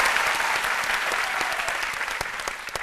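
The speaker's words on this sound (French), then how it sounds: "Et ça s'applaudit." Audience applause at a French midday television celebration, a dense continuous wash of clapping with sharp individual claps standing out, steady and fairly loud for nearly three seconds, no voices over it.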